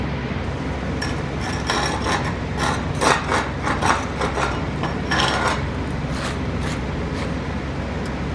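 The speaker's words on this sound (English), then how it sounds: "So let's get the slag pulled off of this" Slag is chipped and pulled off test welds made with various rods, including 6013, on a Harbor Freight Vulcan Outlaw 195 welder/generator, giving a series of close, scattered metallic scrapes and light knocks over a steady background hum.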